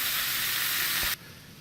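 Shrimp sear in a hot pan with a loud, steady hiss and sizzle that cuts off abruptly near the end, close and without speech.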